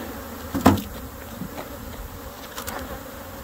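Honey bees buzz steadily around a package and an open hive, a low continuous hum with a sharp knock near the start and a fainter one later.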